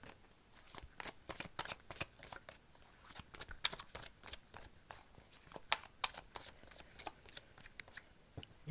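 Oracle cards are shuffled by hand, a close, quiet series of quick papery riffles and slaps repeating irregularly throughout, with no talk.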